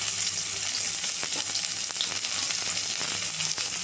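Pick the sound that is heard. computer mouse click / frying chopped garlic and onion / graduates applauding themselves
frying chopped garlic and onion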